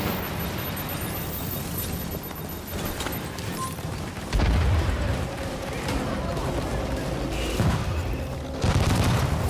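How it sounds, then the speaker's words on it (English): An APC fires on the players in a video game, with heavy booming shots and bursts of gunfire hitting at intervals amid ongoing battle noise, and people talking over it. "Why is the APC shooting us?"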